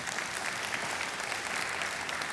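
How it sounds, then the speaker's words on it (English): Audience applause at a sales conference event, steady dense clapping from a crowd at moderate distance, sustained evenly without pauses and no talking over it. "you can give me a clap."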